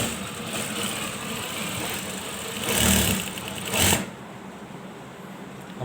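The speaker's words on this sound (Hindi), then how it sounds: "आइए अब इसकी बैक सिलाई करते हैं, फ्रंट और बैक का ज्वाइंट।" Sewing machine stitching the front and back shoulder seam of a ladies' kameez, a steady close mechanical hum that swells briefly twice before easing off, with no talking.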